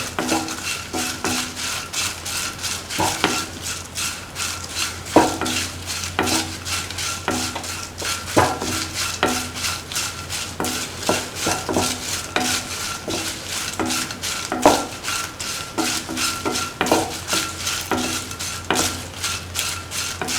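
Chilies and beans are sautéed in a pan, with a utensil scraping and tapping in a steady repeating rhythm over a light, continuous sizzle.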